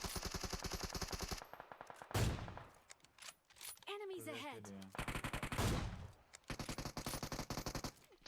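Gunfire in the mobile game PUBG Mobile: dense bursts of rapid automatic shots, loud and continuous at the start and end, with a quieter middle stretch where game sounds and a brief voice-like tone come through.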